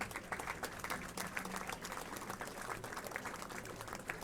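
Crowd applauding at a bowling league awards ceremony at Limerick Bowl, a sustained patter of many hands clapping at moderate distance, fairly quiet and even throughout.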